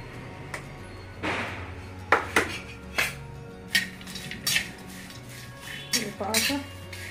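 Turmeric being stirred into roasting poha in a metal kadhai, with a spoon knocking and scraping against the pan in a series of close, sharp clinks and taps.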